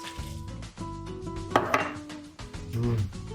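Chopped pecans, half a cup, get mixed by hand into banana nut bread batter, heard as close clinks and scrapes of a utensil against a bowl in uneven bursts.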